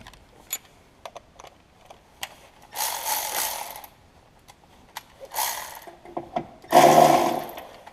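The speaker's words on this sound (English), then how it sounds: "Okay, so I'm going to take that 10 millimeter out right there." Ratchet wrench loosening a small bolt on a 2013 Chevy Cruze during rear window work, close and loud, heard as sharp isolated clicks, then several bursts of rapid ratcheting with pauses between them.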